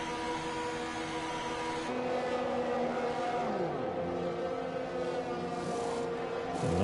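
A Ferrari Formula 1 car in a racing game at the Azerbaijan Grand Prix dives into the pits, engine whine close and steady with pitch dropping and shifting as it slows, alone without talk.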